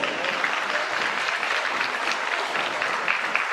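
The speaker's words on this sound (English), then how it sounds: "Let's give them all one big round of applause." Steady applause from an audience at a youth livestock show, honoring the senior showmen. It is a dense, even wash of clapping that holds for the whole stretch without letting up.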